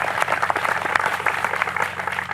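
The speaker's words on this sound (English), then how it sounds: "that's worthy of a round of applause" A crowd claps at an outdoor highway groundbreaking ceremony for the Ripley Bypass, steady and dense applause throughout with no voices over it.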